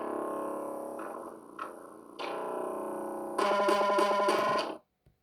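An unedited copied bass line plays back from music software in a bedroom floor studio, distorted buzzy tones in several choppy sections that build to a denser, louder passage before cutting off abruptly.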